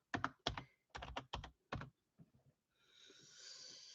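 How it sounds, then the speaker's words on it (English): Someone types on a computer keyboard in uneven bursts of crisp close key clicks with short pauses, followed by a softer rustling hiss at the end. "I'm going to type it and then I'm going to start acknowledging people here in a little bit."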